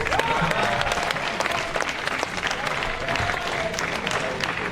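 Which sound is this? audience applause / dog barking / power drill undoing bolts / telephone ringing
audience applause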